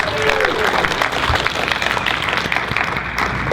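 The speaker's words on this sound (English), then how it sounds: "Give Steve a round of applause real quick." An audience at an anime convention panel bursts into dense, continuous applause that stays fairly loud for a few seconds, with some crowd noise mixed in.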